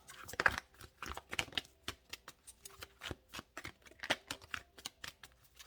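Tarot cards being drawn and handled from a deck, a run of crisp, short papery snaps and shuffling flicks in irregular rhythm, close and fairly quiet with no talking.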